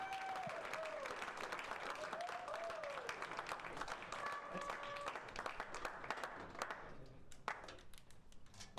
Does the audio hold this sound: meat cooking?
no